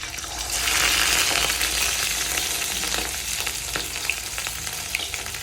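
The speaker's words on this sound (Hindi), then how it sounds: "बेगम साहिबा जो है इसको फ्राई कर रही हैं।" Fish marinated in desi spices fries in a pan, giving a loud, steady sizzle and crackle that swells after the first second and runs on with small pops and spatters, close by and without talk.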